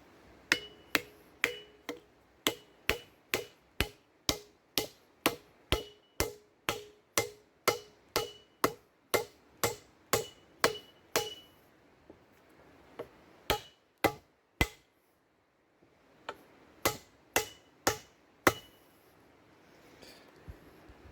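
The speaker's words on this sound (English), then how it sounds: "we hammer that one in" Sharp, regular hammer blows drive a wooden wedge into an axe handle in a steady series, a brief pause, then more evenly spaced knocks, close and distinct.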